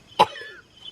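A single short, close cough, sharp and loud, followed by quiet room noise, in an upland home in the Philippines where food is cooked indoors.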